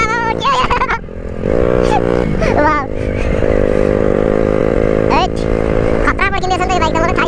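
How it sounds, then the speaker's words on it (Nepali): A motorcycle engine runs and revs with a steady droning hum that rises and holds, loud and close. Someone talks over it almost the whole time. "खतरा पड्किँदैछ नि त यो बाइक त।"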